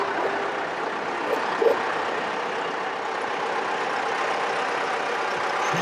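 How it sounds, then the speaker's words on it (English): A 1970 Case 870 farm tractor, a first-year model of about 85 horsepower, rolls by in a small-town homecoming parade in Manitoba, its engine a steady broad rumble and hiss that holds evenly throughout. "This tractor is a 1970 model, the first year of production."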